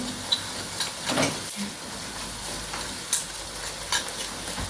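Onion and pepper paste sizzle and hiss in a hot pan, with occasional scraping stirs and small pops over a steady frying crackle.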